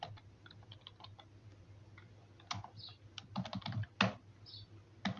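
A name typed on a computer keyboard in a spreadsheet: faint, scattered key clicks at first, then quicker bursts of keystrokes with a few louder taps near the end.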